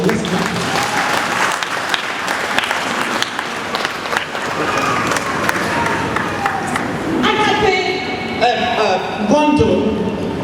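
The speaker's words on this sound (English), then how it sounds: "let's clap for this children. Let's clap." Audience applause for children at a graduation ceremony, a sustained wash of clapping running throughout, with speech and some brighter sharp claps rising toward the end.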